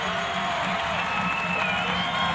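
Big crowd noise fills an indoor arena during a 1992 regional men's college basketball semi-final, a loud, continuous cheering murmur that holds level throughout.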